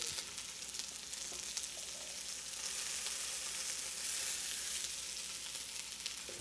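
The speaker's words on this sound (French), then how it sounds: "mais ça grésille. Donc là, c'est en train de colorer." Tuna belly browns in a pan with onion and green papaya, a dense continuous sizzle with fine crackling that stays even throughout.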